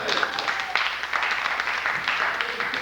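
Applause from a live audience at a jazz and poetry event, moderately loud and continuous with individual claps distinct, steady for the whole stretch.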